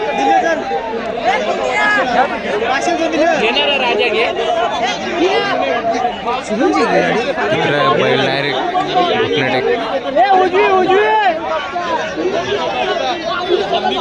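Dense crowd chatter fills an evening bullock cart race ground, many voices overlapping at a steady, loud level, with nearby speech running over the babble throughout.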